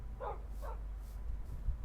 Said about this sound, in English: I just tamed 2 wolves